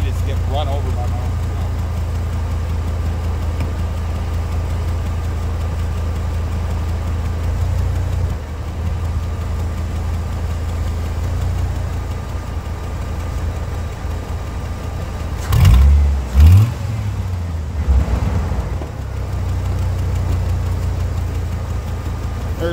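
A car engine idles with a steady low rumble while a faulty shift linkage leaves it trying to kick into gear, with a few louder clunks and revving surges near the end.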